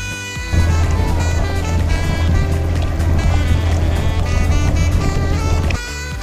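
A tourist boat ride on Lake Pichola in Udaipur: a loud, steady low motor drone, with water and hull noise, starting abruptly and cutting off near the end.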